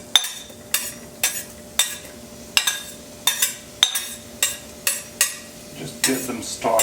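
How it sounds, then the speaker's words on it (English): Shallots frying in hot olive oil in a pan for a yellowfoot mushroom risotto, with a steady run of sharp, evenly spaced stirring scrapes and clinks over a low sizzle. "And into the olive oil go the shallots"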